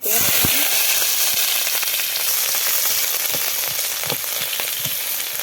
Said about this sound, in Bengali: দিয়ে দিলাম সরষের তেল এর মধ্যে দিয়ে দিচ্ছি এই যে একটু জিরা একটা শুকনো লঙ্কা লবঙ্গ দারচিনি এলাচ দিয়ে দিব